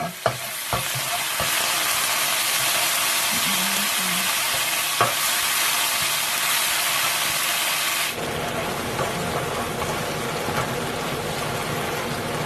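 Crispy Thai-style pasta snack fries in hot oil for a second round, with a loud continuous sizzle and hiss, stirring clatters and knocks, and the sound dropping abruptly partway through as the frying settles down; no one speaks.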